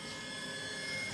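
A Laser Key 3D Elite key cutting machine, set up with a high-security jaw, moves in to calibrate, giving a brief, steady mechanical whir and motor hum at close range.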